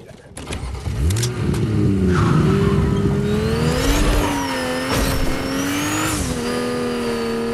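Car driving in the Fortnite video game, a close, steady engine roar that revs and rises in pitch with brief tire squeal, continuing loud throughout while a voice speaks.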